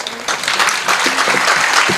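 Audience at a Hindi poetry recital in Bareilly breaks into applause, a busy close spatter of clapping hands with a few louder claps and faint voices mixed in.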